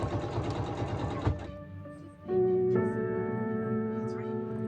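A sewing machine stitches cotton twill tape boning channels for a gown bodice, close by: a fast rhythmic clatter briefly slows and stops, then a steady whirring run picks up and continues.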